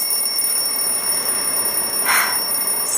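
A shrill alarm clock rings in a steady, high-pitched tone with a brief louder burst near the end, heard close by with no voices.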